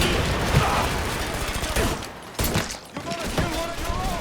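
Rapid gunfire in the video game Mafia 3, a dense fusillade of close shots and mechanical clatter running continuously, with voices shouting over the shooting.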